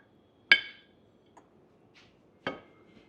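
A metal serving spoon clinks sharply against a pot and plate while tehari is dished out, two bright distinct knocks about two seconds apart with a few faint taps between, close and quiet otherwise.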